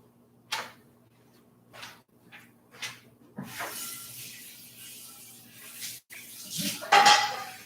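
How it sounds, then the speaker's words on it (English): A skillet rinsed in a kitchen sink, with scattered clanks and knocks of the pan followed by a steady rush of running water, close and moderately loud. "I'm rinsing my skillet."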